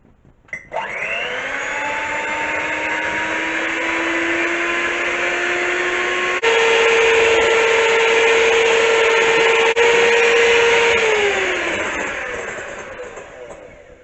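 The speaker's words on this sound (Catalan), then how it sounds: "Reservarem els rovells i muntarem les clares a punt de neu." An electric mixer whips egg whites to stiff peaks for a dessert, a loud close whine running continuously for about fourteen seconds, its pitch shifting partway through as the speed changes and then winding down at the end.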